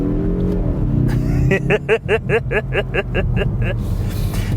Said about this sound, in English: And it accelerates. It's so quick.